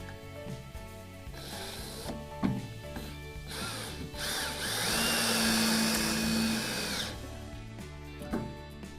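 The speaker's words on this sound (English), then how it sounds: "We'll set our drill to a lower torque" A cordless drill set to low torque drives screws into Moso bamboo Thermo siding boards, the whirring motor rising in a few short bursts and one sustained run midway, close and moderately loud over a busy background.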